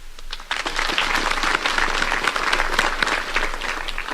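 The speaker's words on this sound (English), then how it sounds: "Let me ask this team again to extend a round of applause to General Njiru and his family" A crowd gives a sustained round of applause for General Njiru and his family at a public gathering, dense clapping that stays loud and steady from start to finish after a brief quieter opening.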